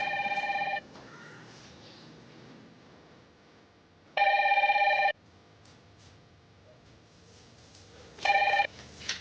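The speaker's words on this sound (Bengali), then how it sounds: "কে ফোন করলো দেখো তো।" A telephone rings indoors at home in three separate bursts with quiet gaps between them, each ring a bright electronic trill, loud and close, with no voices over it.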